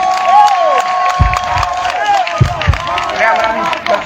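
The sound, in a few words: crowd applauding Mme Begré at political rally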